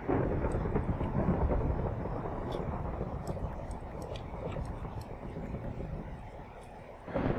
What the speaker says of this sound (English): You gotta love those Minecraft thunderstorms, huh?